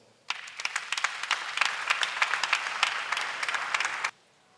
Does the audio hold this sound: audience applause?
yes